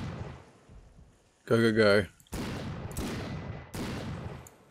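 Gunfire in the video game Florida Simulator 1986: several loud, broad blasts with decaying tails, each ringing out after a short shouted voice, spaced about a second apart.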